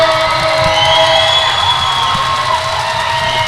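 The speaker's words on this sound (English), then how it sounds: "Crowd really getting into it here" A basketball crowd at a UC Capitals versus Melbourne Boomers game roars in a loud, steady wash of cheering and shouting that fills the arena, with no clear breaks and no nearby talk.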